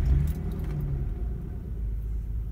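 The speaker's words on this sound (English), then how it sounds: "Next, I'm going to start the engine of my vehicle." Car engine being started with a key, keys jangle close up at first, then a low steady idle rumble continues.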